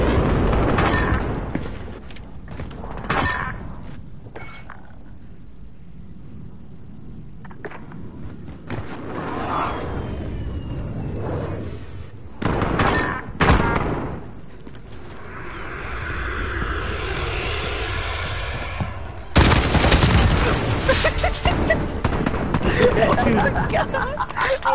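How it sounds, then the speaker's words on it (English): Gunfire in a first-person shooter video game, bursts of shots and explosive booms scattered among steady engine drone and game noise, with voices talking over much of it. "I shot four shots before I could aim in. I held it down for 5 seconds."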